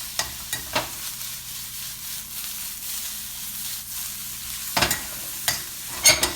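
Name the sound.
oyster mushrooms with shallots and garlic sizzling in a pan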